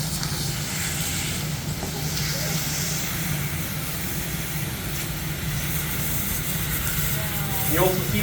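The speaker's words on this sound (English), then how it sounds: "This is actually the steam from the ice that's pushing into the lava and inflating it." Steam hisses where ice is pushed onto glowing molten basalt lava at a lava show in Vik, Iceland, a broad, steady rushing hiss under a low roar.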